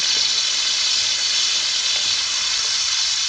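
Onions hit hot oil with golden-brown cumin seeds, giving a loud, steady sizzling hiss that holds unbroken throughout with no speech.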